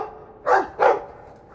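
Dog barking in the Dragon Age II video game, two short, clear barks close together, fairly loud against a quiet background.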